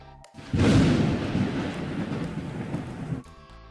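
A thunder sound effect fired as an audio cue in show-control software, a deep rolling rumble that swells abruptly, holds loud with a rain-like wash for a few seconds, then cuts off sharply.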